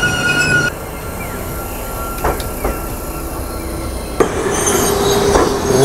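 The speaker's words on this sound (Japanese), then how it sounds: "これも違うところに行く列車です" A city rail car on a Matsuyama line toward Dogo Onsen passes close by, loud and steady, with a thin wheel squeal running through and a few sharp clanks near the end.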